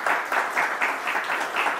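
Applause from an audience at a heated Indonesian debate, a dense, steady patter of many hands clapping, moderately loud and continuous for the full two seconds.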